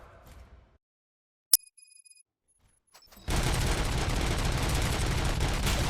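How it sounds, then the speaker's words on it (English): Gunfire erupts in the RoboCop: Rogue City video game, a sharp single crack followed after a pause by a sudden loud, sustained barrage of dense shooting filling the rest of the clip. "Gunshots?"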